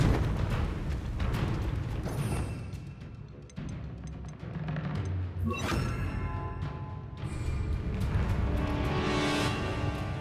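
Explosive spell effects in Hogwarts Legacy: a dense mix of booms, crashes, and clattering game sounds, with several sharp bursts over a continuous rumbling background.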